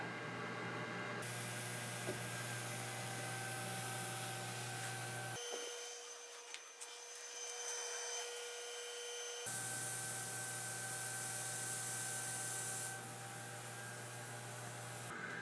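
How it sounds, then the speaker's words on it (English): A D1 laser tool cutting a half-inch piece of material gives off a faint, steady machine hum with tonal fan whine, the sound shifting in character partway through before returning. "Let's place it in the laser tool."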